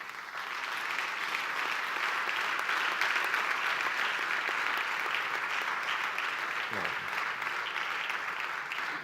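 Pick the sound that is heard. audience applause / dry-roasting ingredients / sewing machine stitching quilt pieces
audience applause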